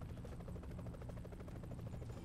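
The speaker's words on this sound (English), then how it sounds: "Again, the really badly proportioned helicopter." Helicopter in the video game Broforce, a steady close rotor drone with rapid rhythmic chopping throughout, alone without talk.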